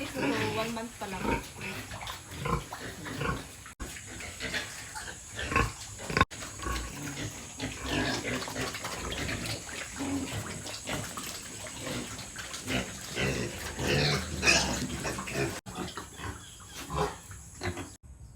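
A pregnant sow grunts and snuffles on a farm, with repeated close, rough grunts and wet rustling while someone talks over them.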